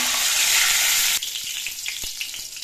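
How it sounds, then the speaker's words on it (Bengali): Mustard seeds dropped into hot mustard oil give a loud, dense hiss that drops after about a second to a quieter crackle with scattered sharp pops. "সর্ষের তেলটা বেশ ভালো মতো গরম হয়ে গেছে। এবার এর মধ্যে দিয়ে দিচ্ছি অল্প করে একটু সর্ষে"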